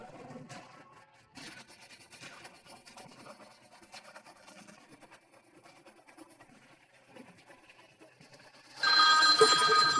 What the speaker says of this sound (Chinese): 来电了，来电了！ 各国使馆转接来电了。